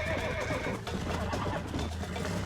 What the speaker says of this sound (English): As I get bucked off my horse.